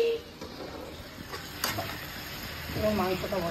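Amudi fish curry (chorchori) simmering and reducing in a pan, giving a low steady sizzle with a few soft stirring clinks, a little louder toward the end.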